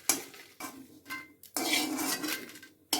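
A pan clatters while fenugreek and chillies are dry-roasted without oil for homemade mango pickle. Sharp metallic scraping and clinking bursts come in short, close, intermittent rounds.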